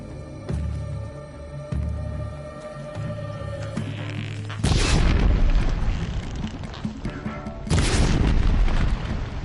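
Explosions in the video game Horizon Zero Dawn on PS5: two heavy, roaring booms several seconds apart, loud and close, bursting over a steady droning game score.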